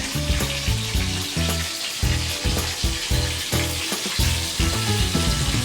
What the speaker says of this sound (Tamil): ஒரு டென் மினிட்ஸ் எல்லாம் வதக்கணும் ஃப்ரெண்ட்ஸ்